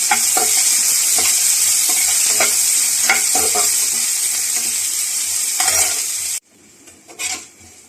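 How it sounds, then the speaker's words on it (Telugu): Onions and curry leaves fry in a pan with a steady, close sizzle, broken by repeated scraping stirs before the sizzle suddenly cuts out near the end, leaving a few quieter utensil sounds. "ఉల్లిపాయలు, కరివేపాకు అన్నీ వేసి వేసుకోవాలి"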